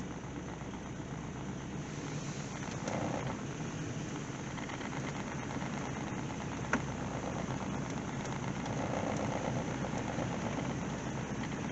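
A car engine idles high at around 1,000 RPM after sitting unused for years, a steady, even mid-range drone that holds fairly constant throughout with slight swells and no talk over it.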